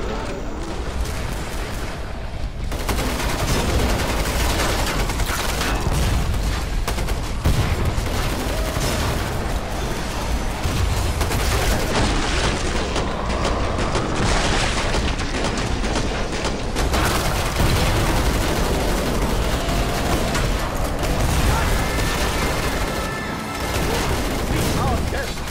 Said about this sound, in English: incendiary round shotgun actually really helps